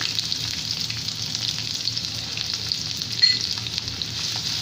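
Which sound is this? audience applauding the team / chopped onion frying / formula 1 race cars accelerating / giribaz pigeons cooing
chopped onion frying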